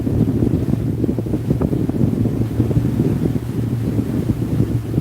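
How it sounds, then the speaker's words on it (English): Steady wind buffets a boat out on the water, a continuous rushing roar with low rumble and no voices, loud and unbroken throughout. "the wind is just part of it"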